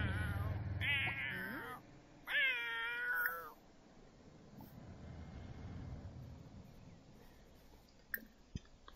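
A cat in the video game The Sims 4 Cats and Dogs gives a few drawn-out, clear meows close up, followed by a quiet background hum and a couple of faint clicks.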